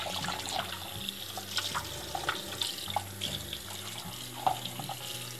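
Tap water running steadily into a sink while Hurom juicer parts are rinsed, with light clatter of plastic pieces under the flow.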